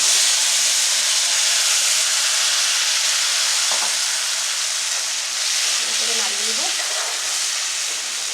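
A ground paste of cashew, poppy seed, garlic and mustard hisses and sizzles steadily in hot oil with cardamom and nigella seeds, a constant close frying hiss with a faint voice underneath.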